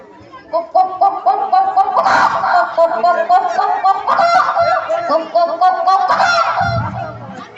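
A performer's voice imitates a hen clucking at a Pongal celebration, a dense run of harmonic, squawking clucks that carries continuously for several seconds at close range, with a couple of louder bursts.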